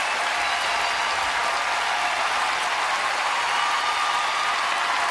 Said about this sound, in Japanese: 大きな大歓声、そして拍手がこの2人に送られます